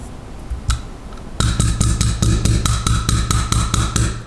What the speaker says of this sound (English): what I'm going to do is just throw this in our trusty hair stacker, tips down